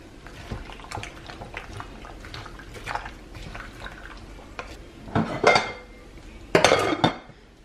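A spoon scrapes and clinks against a crock pot while stirring food seasoned with garlic powder and chili powder, with irregular soft knocks that grow louder toward the end.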